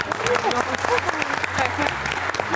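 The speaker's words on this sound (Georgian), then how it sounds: "აპლოდისმენტები" Applause from an audience in a studio at the end of a quiz show match, steady clapping throughout while people talk over it.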